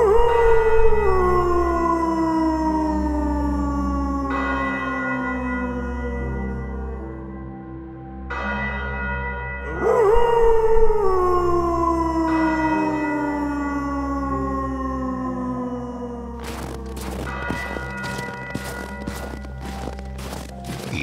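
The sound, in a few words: dog howling with cathedral church bell ringing, sound effect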